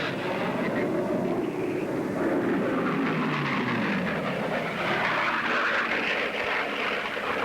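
A racing airplane's piston engine, over 3,000 horsepower, runs at full power at around 500 mph. It gives a loud, continuous roar with a slowly shifting tone and no break or pause.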